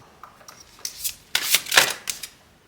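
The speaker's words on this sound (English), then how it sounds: "let's shuffle some more cards to see what else we can get on this reading" Tarot cards being shuffled by hand for a pick-a-card reading: several quick riffling bursts, sparse at first, then louder and denser in the middle before tapering off, close and clear.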